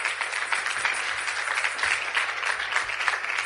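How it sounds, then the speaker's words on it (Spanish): Audience applause at a talk on the brain and nutrition, continuous fairly quiet clapping with a steady hum underneath, lasting the whole stretch with no speech over it. "un aplauso. Por favor,"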